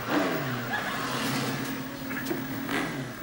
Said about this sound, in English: it sounds like old Bristow on his motorbike.